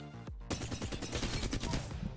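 The Flatline assault rifle in Apex Legends fires a fast, loud burst of rapid evenly spaced shots right up close, following a short lead-in sound.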